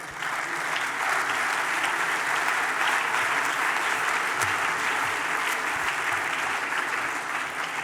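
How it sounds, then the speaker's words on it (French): A conference hall audience of French private-school heads gives sustained, dense applause that holds steady and loud from start to finish with no voices over it. "vous proposez maintenant de vous applaudir une nouvelle fois vous-même"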